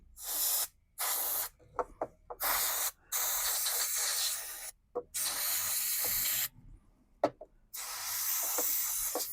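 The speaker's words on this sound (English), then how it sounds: "get my air duster. It comes with a little spout" Air duster blowing compressed air through a small spout while a sewing machine is cleaned, a series of sharp hissing bursts of varying length separated by short silences, close and clear.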